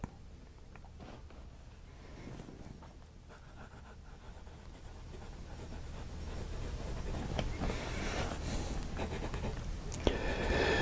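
A fountain pen with a 1.1 stub nib writes on paper, giving a faint, steady scratching that continues softly and evenly throughout at close range.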